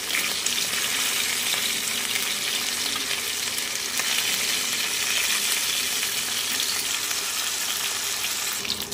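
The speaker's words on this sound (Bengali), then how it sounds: "তেল গরম করে মাছ ভাজা বসিয়ে দিয়েছি।" Hilsa fish pieces frying in hot oil, giving a loud, continuous, close sizzle with a steady crackle that holds throughout.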